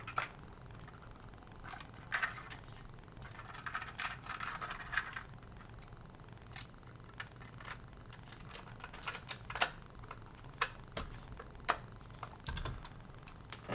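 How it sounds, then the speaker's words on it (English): A reference cassette tape is inserted into a Sony WM-EX505 portable cassette player mid-repair, giving a sequence of quiet plastic clicks, rattles and small mechanical snaps with scraping handling noise at close range. "Let's insert the reference tape."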